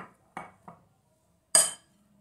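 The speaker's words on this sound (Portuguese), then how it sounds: "Vou colocando aos poucos aqui e vou mexendo." A spoon or whisk folds whipped egg whites into cake batter in a bowl, giving three light clinks against the bowl and then one sharper, louder clatter, close by with no talk.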